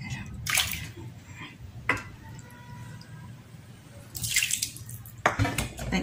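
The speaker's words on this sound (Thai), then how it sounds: "ใส่น้ำไปก่อนนะ3ถ้วย" Three cups of water poured into batter for homemade spring roll wrappers, heard as several short, close splashing pours separated by quiet gaps.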